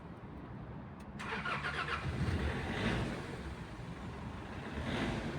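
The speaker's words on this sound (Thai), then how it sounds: "เรามาฟังเสียงเครื่องยนต์กันนะครับ" A 2008 Nissan Frontier pickup's YD25 diesel engine cranks and starts, then settles into a steady, rumbling idle, heard fairly faintly from nearby with no one talking.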